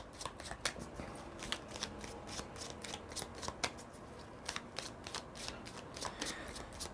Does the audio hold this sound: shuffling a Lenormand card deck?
yes